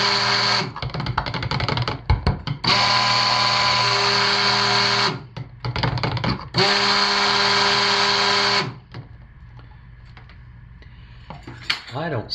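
A stick blender whirs through cold process soap batter scented with orange and lavender, running in two long loud bursts separated by short pulses, then shutting off as quieter stirring and scraping of the container follow.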